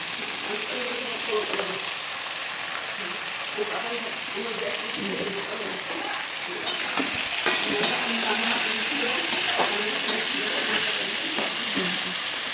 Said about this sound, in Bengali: ডাঁটা আর আলুটা আমি আগে ভেজে নেব